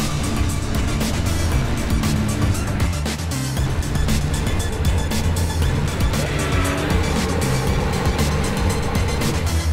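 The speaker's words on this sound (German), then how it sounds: "leistungsstarke Fahrzeuge auf der Strecke bewegen" Powerful performance cars lapping the Nürburgring circuit, a loud continuous engine roar with passing surges and gear changes, dense and close with no talk.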